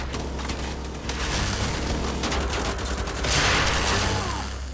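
Gunfire from the shooter game Wolfenstein: The Old Blood, a dense fusillade of rapid shots with booming low end and crackling reports that swells louder near the end, loud and continuous with no talk.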